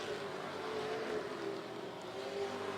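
Pro trucks racing on a dirt track late in a race, engines droning steadily at a distance in a continuous roar without clear passes.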